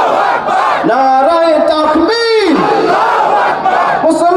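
A large crowd chants in unison in reply to a leader's Nara-e-Takbir call at a Bangladeshi religious rally, a loud, sustained collective shout of a few seconds that rises and falls with the slogan's rhythm.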